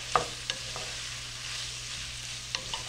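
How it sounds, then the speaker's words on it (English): Garlic being stirred into peppers and onions frying in a skillet, with a few distinct spoon scrapes and clicks over a soft, steady sizzle and a low background hum. "Let's stir the garlic in."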